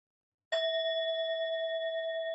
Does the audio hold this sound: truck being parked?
no